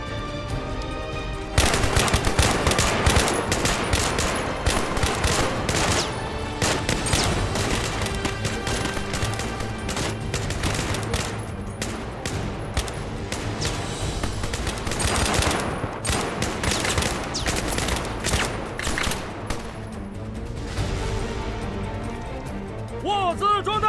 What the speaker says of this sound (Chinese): 握子装弹， 开始射击。